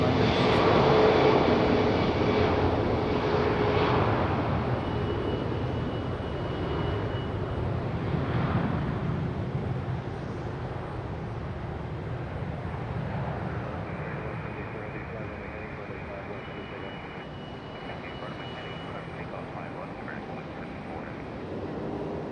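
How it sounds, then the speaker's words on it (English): A Boeing 777 jet departs Raleigh-Durham airport, its engine roar loud at first, then slowly fading as it climbs away in a long, steady rumble. "Departure tonight. 777 headed back to London."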